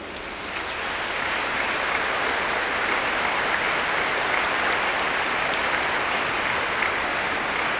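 Sustained applause from a church congregation after Sunday evening Mass, a dense, even wash of clapping that starts in the first second and holds steady without a break.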